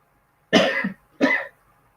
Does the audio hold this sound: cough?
yes